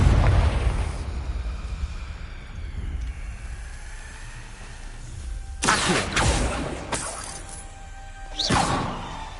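Confringo blasting spell going off in the game Hogwarts Legacy, a rumbling opening boom followed by several sharp crackling bursts around the middle and end, fairly loud and clear with no talk over it.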